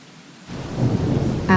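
A thunderstorm with rain sweeps through a forest: after a brief quiet start, a loud, steady wash of rain and low thunder rumble rises and holds, swelling slightly near the end.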